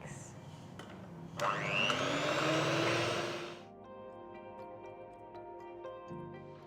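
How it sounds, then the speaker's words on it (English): An electric mixer whirs loudly for about two seconds while beating vegan whipping cream to firm peaks, its pitch rising as it spins up. It then cuts out, leaving quiet kitchen ticking and faint background noise. "Now beat your vegan whipping cream until firm peaks"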